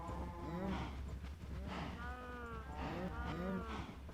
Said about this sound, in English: There's the first two little baby cattle coming through over here.